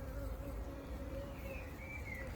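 Honey bees buzz around an opened hive, a steady close drone with shifting wingbeat tones layered over a low hum, with no talk.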